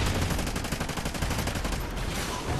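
Rapid automatic gunfire in the shooter game Call of Duty: Ghosts, a dense, loud, continuous stream of closely spaced shots with a slight break near the end, no talk over it.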